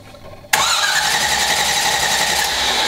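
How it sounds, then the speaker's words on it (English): A car engine cranks briefly and then fires into a steady, loud idle that holds close by to the end, with no talk over it. "Let's see if it cranks over."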